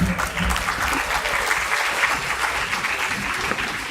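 An audience claps steadily and loudly after a talk at an international student conference, a dense, continuous wash of applause holding at an even level with no voices over it.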